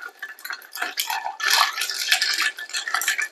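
A chai cocktail stirred with ice in a glass at a home bar, giving continuous close clinking and rattling of ice against glass and spoon, uneven in rhythm, with no talk.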